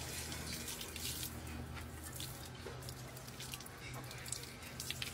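Water runs from a tap while a dog is being bathed, a soft, steady splashing flow with small drips and squishes, fairly quiet, with faint voices in the background.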